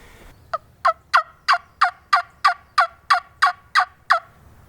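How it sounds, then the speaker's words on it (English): A wild turkey gobbles in a rapid run of about a dozen even, loud pulses, clear and fairly close despite quiet surroundings, on public land in Tennessee in spring. "we got 2 distant birds gobbling across the river"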